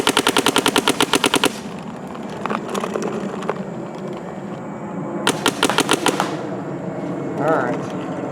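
A paintball marker fires plain paintballs in rapid bursts, a loud, close string of sharp pops, then a few scattered single shots and another fast volley, with some speech partly under it.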